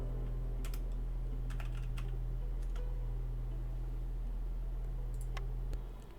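Rapid clicking of computer keyboard keys being typed over a steady low hum, with a quick burst of keystrokes that stops near the end.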